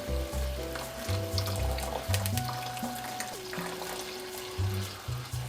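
Cornflour slurry being poured slowly into a simmering vegetable soup while it is stirred, a soft continuous bubbling and sizzle under a low wavering tonal hum.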